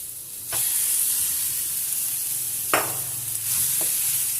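Vada pav potato masala sizzles steadily in a pan, with a few scraping stirs of the spoon breaking through the hiss, close and without talk.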